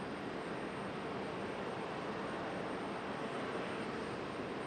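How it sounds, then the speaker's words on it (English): An Air France airliner touching down at Raleigh Durham airport, a continuous broad jet roar held at steady loudness throughout, with no talk. "Air France is about to touch down."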